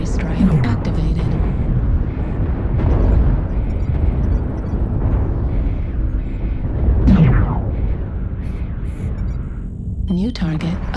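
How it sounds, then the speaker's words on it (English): Heavy artillery strike explosions in a video game, a dense rumbling barrage of booms and blasts rolling on without a break, with a synthetic voice announcing callouts over the impacts. "Artillery strike activated."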